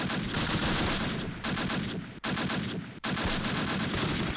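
Sustained, dense bursts of gunfire and explosions from mortar fire in the World War II strategy game Close Combat, loud and continuous with two brief drops, no voices.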